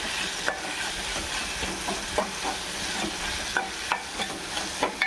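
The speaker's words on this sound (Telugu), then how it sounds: "ఇది కొంచెం అది కూడా పచ్చివాసన పోయిన దాకా బాగా ఫ్రై చేసుకుందాం." Garlic paste sizzles and fries in a pan for a ridge gourd masala curry, a steady close crackle broken by the clicks and scrapes of a spoon stirring.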